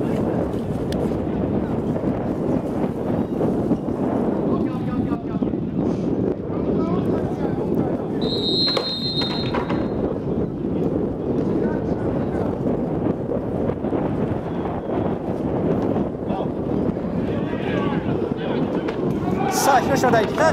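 Strong wind buffets the microphone across the whole stretch at a football field during a college American football game, a continuous rumbling gusty roar with occasional crowd sounds and a brief whistle-like tone mixed in.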